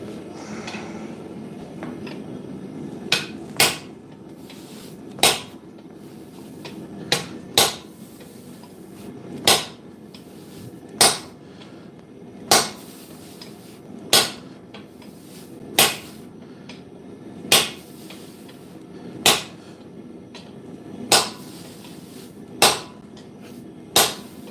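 A hammer strikes hot steel while slitting a forged integral sabre blade, sharp metallic blows falling in a steady rhythm roughly every second or so, ringing clearly over a low background hum.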